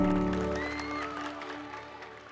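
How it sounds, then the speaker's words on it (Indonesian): Several children clap their hands together at an outdoor gathering in Bali, a scattered burst of applause that is loudest at the start and slowly fades, with tonal hum and faint voices beneath. "Tepuk tangan, bagus lagi."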